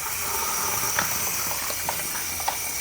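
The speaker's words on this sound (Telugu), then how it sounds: "ఉప్పు తగిలేసరికి ఇలా శుభ్రంగా కడుక్కోవాలి" Water runs in a steady hissing stream while korameenu fish are rubbed with salt and rinsed clean, with light splashes and handling clicks over the constant flow.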